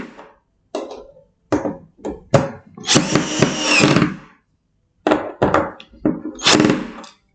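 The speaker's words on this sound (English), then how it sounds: "it seems like the drill is doing the job" A power drill driving screws while IKEA furniture is assembled, sounding in short loud whirring bursts of varying length separated by silences, close by, with one longer sustained run in the middle.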